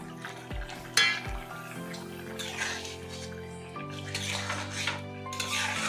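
Egg tadka being stirred in a pan with garam masala added: scattered scrapes and clinks of a utensil against the pan over a soft sizzle, with steady tonal music underneath.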